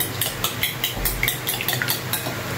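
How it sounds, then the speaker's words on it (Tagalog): Egg is stirred into marinated chicken neck pieces, producing quick rhythmic clinks and scrapes of a utensil against the bowl, close and fairly loud with no talking. "Haluin lang natin yung itlog."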